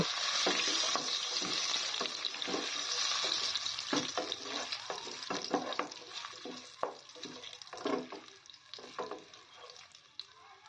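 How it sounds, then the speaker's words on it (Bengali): Cashew nuts fry lightly in ghee in a pan for sweet poha, a soft sizzle under frequent stirring and scraping strokes, close by and moderately quiet, with no talking. "একই সঙ্গে দিয়ে দিলাম কাজু বাদাম। এবার কাজু বাদামটাকে হালকা ভেজে নেব।"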